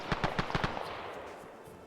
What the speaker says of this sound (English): Some mighty fun gunfire to hear.